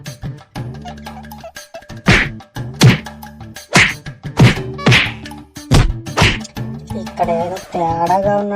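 Cartoon characters pummel someone: a rapid series of loud, sharp whacks and thuds lands every half second or so, over animated voices and tonal sound effects.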